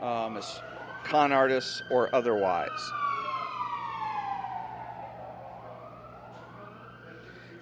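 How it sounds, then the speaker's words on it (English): Someone talks briefly inside a cafe and bakery while a wailing siren outside rises and falls in the background, gradually fading as it moves away. "if you heard the siren in the background"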